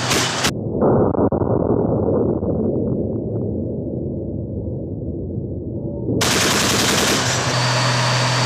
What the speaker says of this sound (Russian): По ней мы будем работать из 30-миллиметровой пушки бронебойными и осколочно-фугасными снарядами.